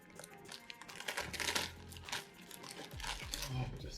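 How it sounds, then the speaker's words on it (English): Plastic crinkles and tears as an Umai dry-aging bag holding a prime ribeye is cut open, with soft rustling and crunching handling noises at close range. "cut open this bag"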